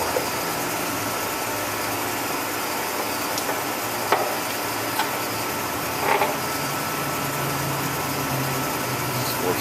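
The headstock of a 15 x 50 inch Clausing-Colchester lathe runs steadily at about 108 RPM, giving a constant mechanical hum with a few light clicks and knocks, and no talk over it.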